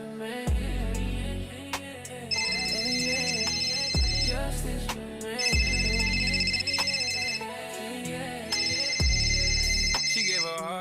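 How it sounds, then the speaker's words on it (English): Outgoing phone call ringing unanswered, a ringback tone repeating in three long electronic bursts with steady gaps, loud and close over a low musical background. "Ain't nobody answering the damn phone."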